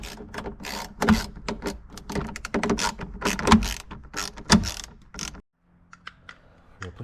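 Battery terminal connections on a 2014-2018 BMW X5 being tightened with a ratchet, close clicking ratchet strokes in several bursts with clanks, then a quiet pause and a few faint clicks.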